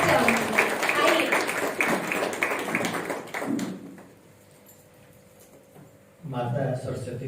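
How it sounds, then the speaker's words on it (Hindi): Audience applause welcoming a speaker at a spiritual group's event fills the first few seconds with dense, steady clapping, then fades to a near-silent pause before a voice begins speaking. "स्वागत हेतु जोरदार तालियां मैं आपसे हर बार चाहूंगी"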